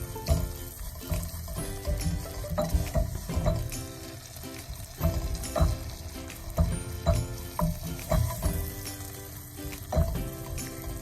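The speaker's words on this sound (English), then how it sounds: "Okay, so our vermicelli is browning up." Vermicelli noodles browning in butter in a pan for a Syrian bulgur dish: a steady sizzle and crackle runs throughout with occasional clinks and stirring scrapes, close up and without talk.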